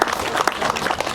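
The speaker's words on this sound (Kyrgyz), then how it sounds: "бир кол чабуулар менен" Brief burst of crowd clapping at a house-opening gathering honouring an elderly mother, a steady dense patter throughout.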